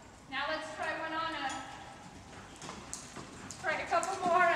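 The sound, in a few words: horse hooves clip-clopping during stop training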